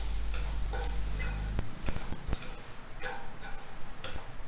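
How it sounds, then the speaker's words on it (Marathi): Peanuts with roasted semolina and a ground gram dal paste are stir-fried in a pan, giving a steady close sizzle broken by a few sharp scrapes and knocks of a spoon, with no voices. "त्यामध्ये आपण भाजून ठेवलेला रवा आणि हरभऱ्याच्या डाळीचं जे वाटण आहे ते घालायचं आहे चांगलं परतून घ्यायचं आहे"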